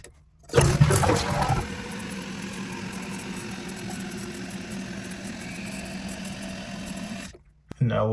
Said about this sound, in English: I will definitely fast forward the water filling up